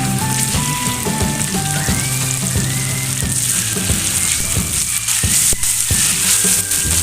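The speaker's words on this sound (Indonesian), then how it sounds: "Kita tumis juga cabenya." Shallots, garlic and chili sizzle steadily as they sauté in a hot pan, a close, loud frying crackle with occasional clinks and scrapes of stirring and no one talking.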